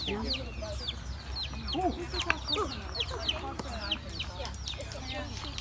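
Chickens on Honolulu, Hawaii cluck and chirp repeatedly at close range, a busy scatter of short calls, with people talking underneath.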